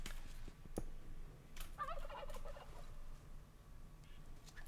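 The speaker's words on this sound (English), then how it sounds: "We have turkeys now." Turkeys in the game Minecraft, played with the RLCraft mod, give a quick burbling gobble in the middle of quiet game ambience, with a few faint clicks before it.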